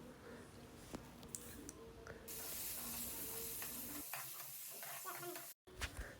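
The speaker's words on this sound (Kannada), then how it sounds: "ಆ ಎಣ್ಣೆಗೆ ಪನ್ನೀರನ್ನು ಹಾಕಿ ಫ್ರೈ ಮಾಡಬೇಕು" Paneer sizzling and frying in coconut oil in a pan, a steady close hiss with occasional stirring clatter, briefly cutting out near the end.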